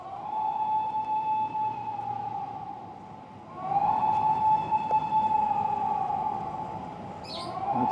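An air raid siren wails over Riyadh, a steady held tone that dips and fades, then rises again and sustains, heard at a distance with faint bird chirps in the background.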